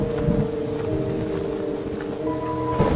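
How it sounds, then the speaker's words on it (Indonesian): Steady rain falling in the video game GTA San Andreas, a continuous hiss with low rumbling underneath and a faint tonal drone, alone with no speech. "Lalu hujan pun turun."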